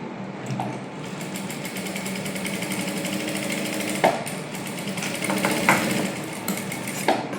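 A sewing machine stitches a silk princess-cut blouse for a child's half saree and pavadai, running slowly in a steady rattling hum with a few sharper clicks near the end.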